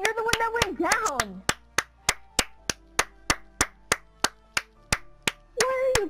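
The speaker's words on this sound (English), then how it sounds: "Where are you clapping?" Sharp claps in ZOMBS, about a dozen evenly spaced loud hits in a steady rhythm, with excited voices talking before and after.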